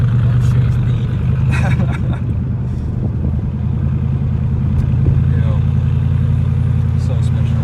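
A Mansory-tuned Mercedes SLR engine roars in a steady loud low drone heard from on board, with voices talking over it and a few sharp knocks.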